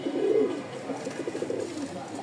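Pigeons coo nearby in a loft, a few soft, rolling throaty calls, with the loudest coming early and quieter ones following.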